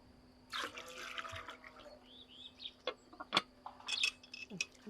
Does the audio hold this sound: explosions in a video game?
no